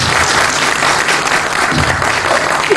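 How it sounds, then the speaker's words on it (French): Warm, sustained applause from a conference audience at a Don Bosco school in Kénitra, welcoming a priest speaker; thick continuous clapping from many hands fills the room evenly throughout. "je vous demande de saluer et d'applaudir avec chaleur"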